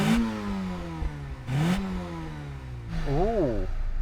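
A 2-litre 16-valve Volkswagen Golf GTI engine revs in short rising bursts, each climbing in pitch then falling back, with a brief voice and a final wavering rev.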